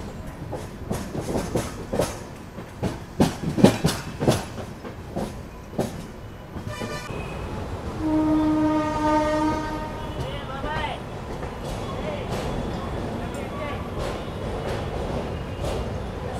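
Vijayawada–Lingampalli Intercity Express crossing the Krishna bridge: rapid clanking clatter of wheels over the span, then a long, loud horn blast near the middle, settling into a steady rolling rumble; speech is heard intermittently.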